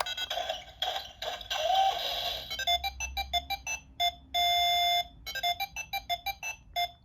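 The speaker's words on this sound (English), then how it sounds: "you click it this way, it makes a victory sound" Break the Safe electronic toy playing its victory jingle, a rapid series of bright beeping electronic tones with a sustained alarm-like tone partway through, close and without talk.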